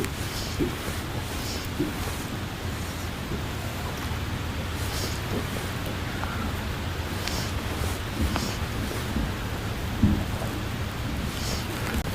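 Rain falls steadily outdoors on the Narrows flats on an overcast October day, a soft continuous hiss with occasional low rumbles and faint drip accents, no one talking.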